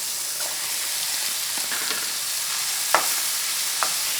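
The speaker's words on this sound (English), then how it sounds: "Stir this around a couple of minutes until this onion is a little half translucent." Beef, mushrooms, onion and vegetables hiss in a lightly oiled pan, a steady near sizzle broken by a few sharp utensil scrapes as the food is stirred.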